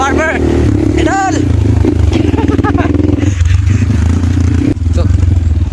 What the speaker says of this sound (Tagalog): Sa wakas, sumandar din motor natin.